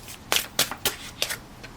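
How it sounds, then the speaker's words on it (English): A deck of tarot cards is shuffled by hand in a handful of crisp, separate riffling bursts, close and fairly soft, with quiet pauses between them and no speech. "Let me shuffle again."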